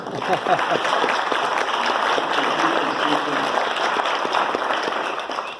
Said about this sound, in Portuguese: Palmas para os nossos alunos.